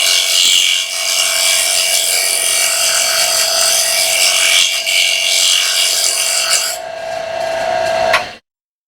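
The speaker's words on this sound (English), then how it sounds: "go ahead and smooth it out with a scraper." A hand scraper smooths the surface of a wooden bowl in one long, continuous, close and loud rasping stroke with a steady whine. It cuts off abruptly at the end.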